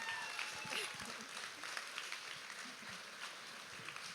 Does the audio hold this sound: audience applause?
yes